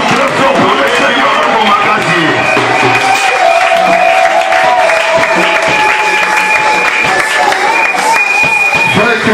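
A church congregation claps loudly and steadily, the applause blending with a singing voice and music over it throughout.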